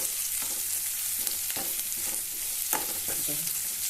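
Onion, garlic and ginger fry in a pan for an Assamese fish curry, a steady close hiss of sizzling oil broken by several spatula scrapes and stirs.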